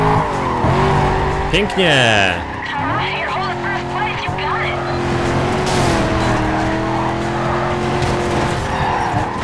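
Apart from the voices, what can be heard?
race car accelerating at full throttle in Need for Speed Carbon video game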